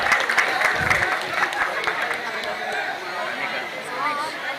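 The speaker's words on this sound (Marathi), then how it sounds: "जोरदार टाळ्या वाजवा बुमरासाठी." Applause mixed with crowd chatter at a cricket premier league prize ceremony, a steady hiss of clapping and voices that gradually eases off.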